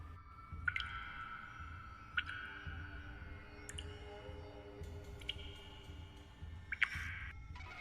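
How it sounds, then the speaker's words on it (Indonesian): Water drops fall onto a dinner plate, producing a handful of sharp, bright plinks spaced a second or two apart, faint and close, over a quiet low rumble. "Tetesan-tetesan air terdengar masuk ke dalam piring makannya."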